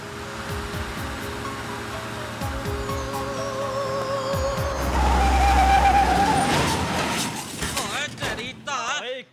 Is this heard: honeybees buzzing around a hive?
no